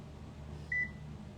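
A single short electronic beep sounds once, high and clear, over a faint steady hum of background noise.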